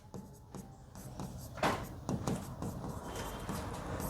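Chalk or marker scraping across a classroom board during a Class 10 maths lesson on real numbers, a run of short scratchy strokes of moderate loudness, close by and with no talking.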